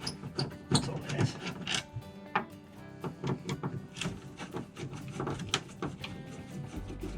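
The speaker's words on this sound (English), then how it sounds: "That cracking you can hear is actually the fiberglass." Fiberglass cracks and creaks as a Lewmar portlight is pried out of a boat, giving irregular close snaps and crunches in a steady scattered series.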